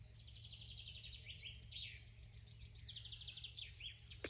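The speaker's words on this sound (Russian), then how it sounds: "птички поют." Small birds sing in a forest, faint and somewhat distant: repeated high chirps and trilled phrases over a low, steady background rumble.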